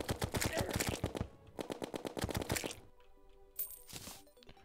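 The Minishark gun fires in Terraria in two rapid bursts of sharp, closely spaced shots, then a brief lull followed by a chiming game effect.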